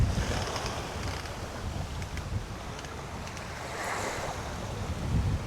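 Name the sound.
strong wind and waves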